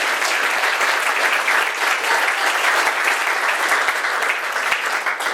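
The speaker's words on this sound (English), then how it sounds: "let's give him a round of applause" Sustained, loud crowd applause at a park firebarn opening ceremony, a thick wash of many hands clapping evenly throughout with no voices standing out.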